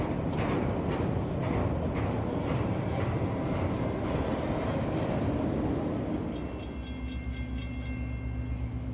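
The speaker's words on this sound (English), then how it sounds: "606 is New Orleans to Waycross mixed freight." A mixed freight train rolls past on the railroad, a loud dense rumble with rhythmic clatter of cars fading into steadier wheel hum and ringing tones near the end.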